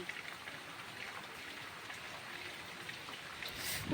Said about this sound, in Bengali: আজকে সারা দিন এরকম ঝোড়ো হাওয়া আর বৃষ্টি হচ্ছে